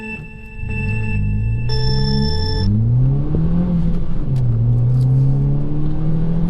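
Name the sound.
Nissan Juke Nismo RS accelerating from traffic lights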